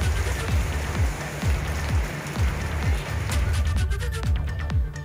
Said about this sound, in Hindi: देहरादून और आसपास के कई इलाकों में कल देर रात शाम के समय ये बारिश हुई है।